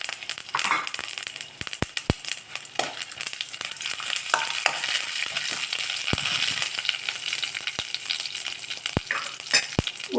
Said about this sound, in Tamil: உளுந்து நல்லா சவக்கட்டும்.